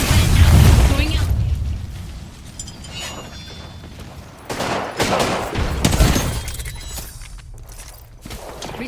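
A frag grenade blows up in Apex Legends with a heavy boom near the start, followed by scattered crackling shots and mechanical clatter that fade and return in bursts.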